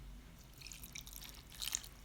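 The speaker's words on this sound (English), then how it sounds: "After you dissolve this, you're going to pour it into your salad." A sugar and vinegar dressing being poured over a Jamaican salad, heard as soft wet drips and trickles, faint and close, with a few brighter splashes near the end.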